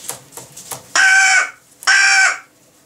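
A crow cawing: a few short soft calls followed by two loud, drawn-out harsh caws close by, each about half a second long with a brief gap between.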